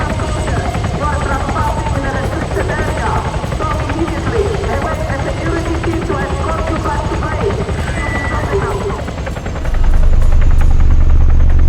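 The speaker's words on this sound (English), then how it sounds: "Here's the helicopter above us." A helicopter in the game Arma 3 thrums steadily overhead, with game effects and a speaking voice layered over it. The rotor noise swells louder near the end.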